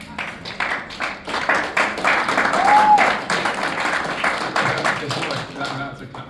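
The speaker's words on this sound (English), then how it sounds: "That's a clap for yourselves and a clap for UW, not a clap for any individual." Audience applause at a business gathering, steady clapping from many hands across the clip with some speech-like sound mixed in and one brief whistle-like tone in the middle.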